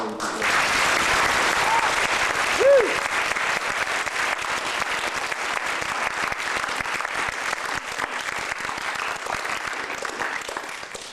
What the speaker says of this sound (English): We can just give Ryan's mom and the family another round of applause.